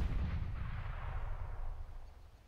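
A grenade detonates in the shooter game CS:GO, a loud booming blast with a deep rumbling low end that decays slowly over a couple of seconds, heard alone with no talk.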